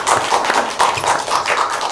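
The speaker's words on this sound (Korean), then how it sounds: "배종대 감독님, 큰 박수로 맞아주세요." Film festival audience clapping for a director arriving for a post-screening talk, a busy crowd of hands with some sharper near claps and soft thumps throughout.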